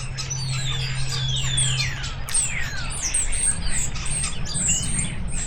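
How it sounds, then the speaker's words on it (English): Starlings in a garden give off a busy tangle of chirps, whistles and squawks, with rising and falling calls overlapping from nearby birds and a low steady hum underneath for the first couple of seconds. "We've got the starlings everywhere at the moment."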